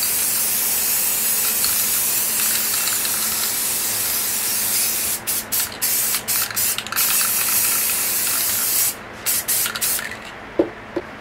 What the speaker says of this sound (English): we're going to spray just here in the center